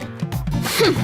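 A sudden sneeze in a movie scene, a single short burst with a sharp noisy release, close and fairly loud, with no talk over it.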